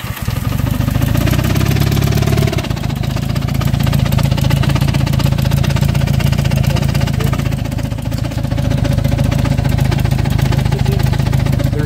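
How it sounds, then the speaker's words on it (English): Motorcycle engine idling steadily on a long road trip with an abnormal noise coming from the back of the engine, a loud constant mechanical rumble with a rhythmic ticking, close up and without talk. "It sounds like it's coming from the back of the engine."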